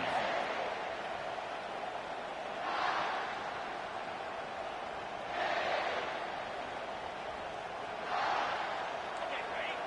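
A large home crowd at a football stadium roars in a steady swell, with three louder surges of cheering rising over the sustained noise.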